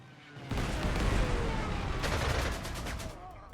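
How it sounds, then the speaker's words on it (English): Artillery fires in the strategy game Panzer Corps 2 as a dense, loud burst of overlapping blasts and rumbling explosions lasting a few seconds, with a crackling rattle near the end. "what we are doing here is we are hitting it with the artillery"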